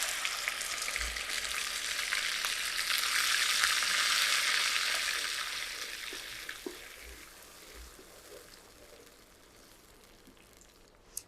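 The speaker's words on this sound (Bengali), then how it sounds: "এই মশলাগুলো খুব ভালো করে একটু সময় নিয়ে কষিয়ে নিব" Onion, green chili, ginger and garlic masala fries in a pan for an egg malai curry, a broad hiss that swells then gradually fades, with a few soft knocks of stirring, close up and without talk.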